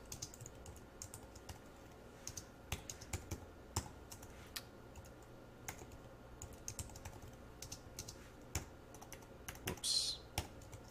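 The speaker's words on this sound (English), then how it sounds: "Let me type that out." Steady typing on a computer keyboard while writing JavaScript code: soft, close key clicks in an irregular flowing rhythm, quiet, with no talking.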